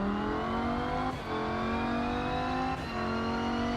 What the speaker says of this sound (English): The Audi R8 then. A different sound, a different feel.